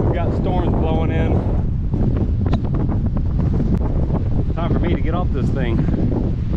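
Strong wind gusts buffet the microphone on a Colorado mountain as a storm blows in, a loud continuous roar throughout, with a person talking over it.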